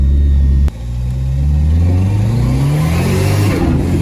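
A Dodge car with a solid-mounted engine and an exhaust leak accelerates while driving, a loud close rumble that drops out briefly and then climbs steadily in pitch through the gears.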